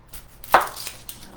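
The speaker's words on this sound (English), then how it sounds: "Oh, gotta love a sharp knife, right? Cut right through that." A sharp knife cuts through half of a small yellow onion on a board, one crisp, close chop followed by a faint second cut.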